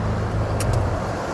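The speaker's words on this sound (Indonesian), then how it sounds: "Mesinnya halus banget." A used car's engine hums smoothly at low speed, a steady muted low rumble with faint road and wind noise and no talk.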